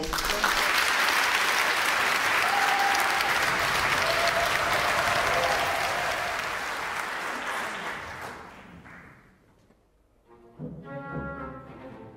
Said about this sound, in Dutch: Een groot applaus voor Dana de Vries.